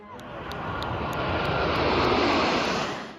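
Passenger airplane engines roar as synchronized aircraft fly past, the sound swelling to a peak and then falling away over a few seconds.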